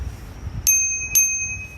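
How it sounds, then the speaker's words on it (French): Two quick rings of a small bell on a DYU electric bicycle, bright and close, each leaving a short metallic ring-out. "Sinon, on a aussi la petite sonnette."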